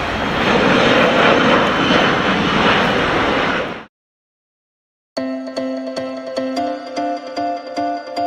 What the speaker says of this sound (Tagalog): Noong makababa ang eroplano sa Mindanao,